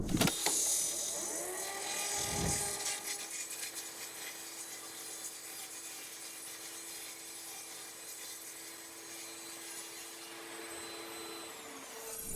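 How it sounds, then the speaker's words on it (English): A table saw whines steadily and loud as it cuts a circle from wood, a continuous grinding hum with a brief low thump near the start, no talking. "I'm going to start the saw, bring it into the point where just this side of top dead center, and then rotate the piece"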